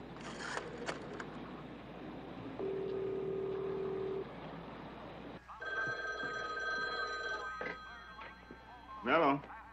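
Telephone dialing during a bus-changeover call in a crime drama: a ringing tone and a steady tone, then a run of dialing beeps close up, with a voice speaking over parts of it.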